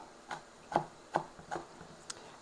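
A small onion being chopped on a cutting board with a knife: four or five distinct, well-spaced chops at a slow, uneven pace, fairly quiet and close, with no talking.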